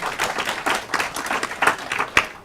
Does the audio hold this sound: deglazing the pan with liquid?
no